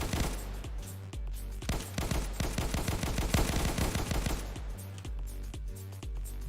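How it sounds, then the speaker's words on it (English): Enemy gunfire in a playtested shooter video game: loud, rapid bursts of shots in quick succession that continue steadily throughout, with only brief gaps between volleys. "Oh, that guy's shooting at me."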